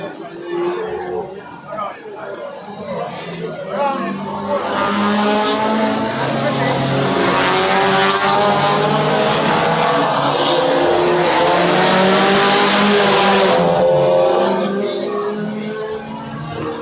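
Race cars at a Carnival of Speed track meeting roar past in a sustained, loud wash of engine noise that swells and holds for several seconds before fading, with crowd chatter and commentary underneath.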